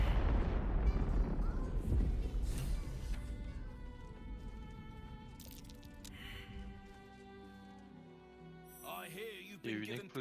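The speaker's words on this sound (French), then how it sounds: "Il y a eu une explosion." An explosion in the video game Baldur's Gate 3: a heavy low boom at the start that decays into crackling debris, followed by faint game music and effects.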